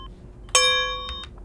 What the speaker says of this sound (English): So I just recorded some of my own metal recordings